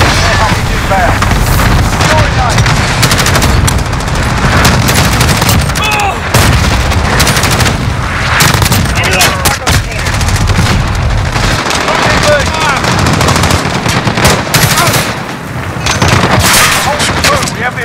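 Gunfire in Call of Duty Modern Warfare (2019) multiplayer with the Dragon 3 gun, dense loud automatic bursts and booms over constant battle noise, with a player talking over the action.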